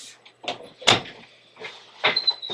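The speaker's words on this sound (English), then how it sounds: "Close the door." A door being shut indoors at home, heard as a few short knocks and thuds spread across the moment, fairly close and moderately loud.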